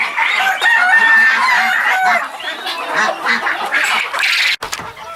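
Loud, busy farmyard chatter of many birds, including Sultan chickens, with overlapping honks, clucks and crowing close by, continuing without a break.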